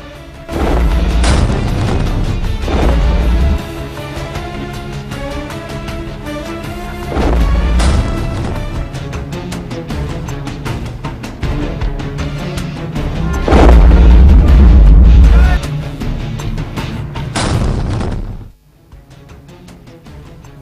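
Three deep, heavy booms from a Dhanush howitzer land several seconds apart over dramatic music, each a loud thundering blast, before the sound cuts away.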